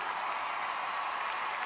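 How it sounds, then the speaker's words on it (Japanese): Arena crowd cheering and applauding at a figure skating competition, a steady, distant, fairly faint roar of clapping and voices with no breaks. "また大きな歓声で"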